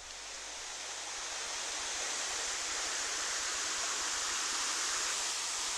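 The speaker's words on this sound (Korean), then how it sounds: "다이 폭포의 물소리를 여러분에게 선물합니다" Rushing water of the Dai waterfall, a dense steady roar of falling water, loud and continuous without a break and with no other sounds.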